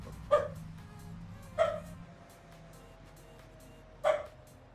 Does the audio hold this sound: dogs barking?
yes